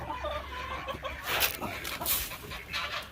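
Chickens cluck nearby at a chicken house during feeding, in short, scattered bursts over a rustling, scuffling background, with a soft low hum underneath.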